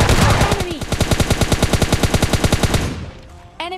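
Rapid automatic fire from an M4 rifle in PUBG Mobile Lite, a steady string of about thirty loud, close shots lasting nearly three seconds before cutting off, followed by a brief game effect.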